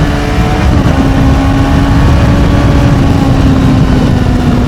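A Honda CBR600RR motorcycle on a night road gives a loud, close, steady engine drone mixed with rushing wind, its pitch holding nearly level.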